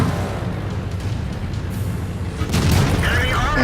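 Gunfire and booming blasts from the World War II shooter game Brothers in Arms, a dense continuous barrage of shots and explosions that swells louder near the end, with voices talking underneath.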